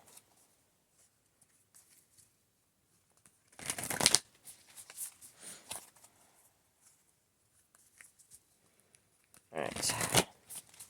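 Tarot cards are shuffled in two brisk riffling bursts, near and crisp, separated by quieter handling rustles while a person speaks briefly in between.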